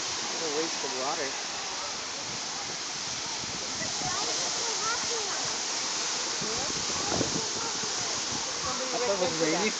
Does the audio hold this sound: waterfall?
yes